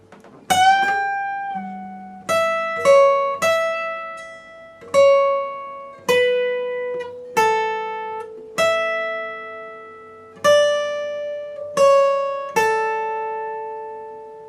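Guitar solo, part four, played slowly on guitar: about a dozen separate plucked notes and short phrases, each ringing and decaying before the next, clear and close with no talking.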